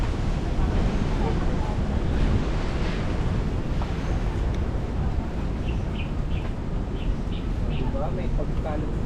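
Strong wind buffets the microphone outdoors in Manila near Fort Santiago, a constant loud rumbling roar with faint bird chirps above it.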